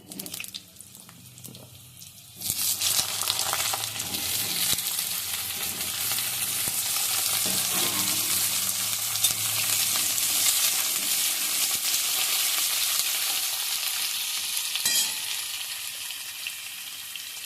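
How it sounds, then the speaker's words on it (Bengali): Cut potatoes drop into hot oil with whole cumin seeds, and after a quieter opening a loud, steady, close sizzle bursts up and holds, with faint stirring clatter throughout. "এবার আমি কেটে রাখা আলুগুলো তেলের মধ্যে দিয়ে দিচ্ছি"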